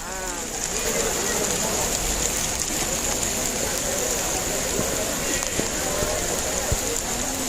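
Steady rain pours down at an outdoor temple site, a dense continuous hiss of drops hitting surfaces that runs throughout, with a faint high tone and occasional small knocks.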